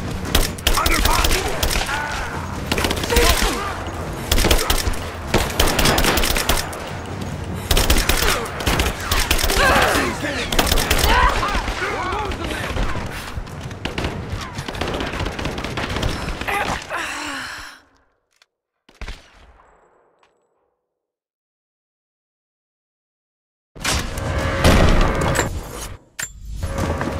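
Dense gunfire from Rise of the Tomb Raider fills the first seventeen seconds, loud and continuous with sharp bursts over rumble and voices, then cuts to near silence before a brief loud burst returns at the end.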